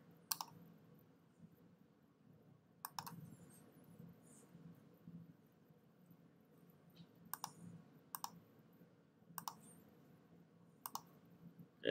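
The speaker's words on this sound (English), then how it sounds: "I'm going to click a couple points to help do my best to create a curve" Sharp computer mouse clicks come singly and in quick pairs at irregular intervals while shapes are being drawn in a design program, over a low background hum.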